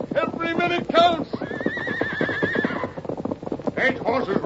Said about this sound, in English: Stage horses run away.